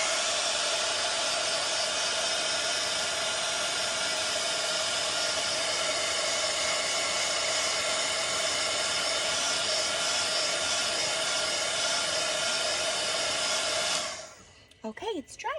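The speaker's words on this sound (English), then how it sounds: "Let me just dry this real quick, so don't mind the noise. I'm gonna turn on the little dryer." A small handheld dryer blows steadily at close range to dry watercolor paint on paper, a loud constant whooshing roar that runs unbroken and then cuts off near the end.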